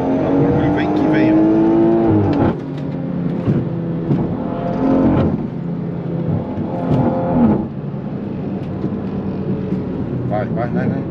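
A project car's engine revs hard and whines as it is driven through a curve, loud and close from inside, with a voice talking over the engine noise.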